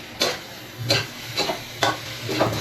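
Two red onions frying in a pan: a constant sizzle broken by regular scraping stirs about once a second, close up with no talk.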